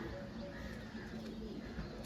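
Pigeons offered at a bird market in Srirampur coo steadily and low over a busy background murmur, the soft throaty calls close by and continuous.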